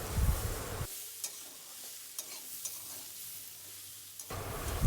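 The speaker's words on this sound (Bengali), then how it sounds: "এর মধ্যে নুন দিয়ে ভালো করে এটাকে নেড়ে নেব" A spoon stirs food in a hot pan after salt goes in, scraping in a few soft strokes over a faint sizzle, with louder clatter at the start and end.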